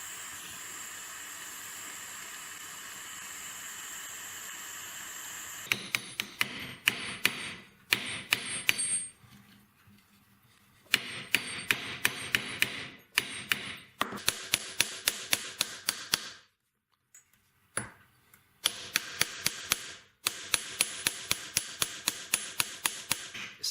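A metal ring setting is hammered by hand in close, sharp, rapid blows, repeated in bursts separated by brief pauses, loud and alone over a faint background hiss.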